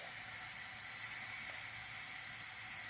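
A pressure cooker hisses continuously with steam while cooking vegetable peelings, a steady broad hiss filling the clip at moderate level with no talk.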